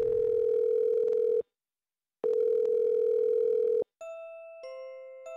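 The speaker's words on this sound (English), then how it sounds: "Do I hear music coming from the phone?" Ringing tones from a phone in a psychological horror visual novel: two long steady buzzes separated by silence, then a thin electronic melody of stepped tones begins, clear and with no voices over it.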